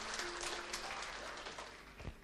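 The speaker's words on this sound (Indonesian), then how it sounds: "Kita beri tepuk tangan untuk kebenaran ini." Church congregation applauding during a sermon, a steady broad wash of clapping from many hands that fills the whole moment without pause, fairly close and even in loudness.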